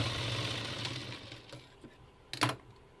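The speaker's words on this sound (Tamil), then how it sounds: "இதுக்கு மேலேயே இன்னொரு தையல் போட்டுக்கோங்க." A sewing machine stitches a back stitch over an existing seam on fabric, a soft whirring run that fades out and ends in a short sharp mechanical clatter.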